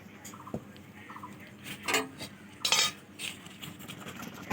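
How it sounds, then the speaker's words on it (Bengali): Egg curry scraped from a pan into a bowl: a few soft metallic clinks and scrapes of a spoon against cookware, fairly quiet and close, with no talking. "দেখো এটা আমি আবার নামিয়ে নেব, একটা পাত্রে ঢেলে নিলাম।"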